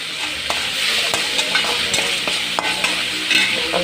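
Tomatoes sautéing with salt in a pan for brinjal thokku, giving a steady hissing sizzle broken by frequent spoon scrapes and stirring knocks, close and continuous.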